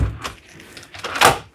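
A caravan door in a 28ft Willerby Brookwood opens or closes with two short knocks and thuds, the second louder and sharper, close by.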